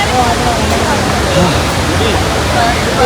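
Athirappilly waterfall in Kerala, water crashing down in a loud, steady roar of broadband rushing noise, close and constant, with a voice talking faintly under it.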